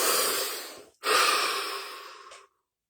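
A deep breath during a relaxation exercise: a long airy inhale, a brief pause, then a slow, fading exhale, close and quiet, with no talking.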